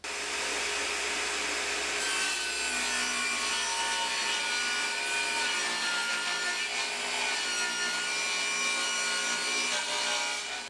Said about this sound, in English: I think this is 9mm MDF, so I'm going to get that cut down on the table saw.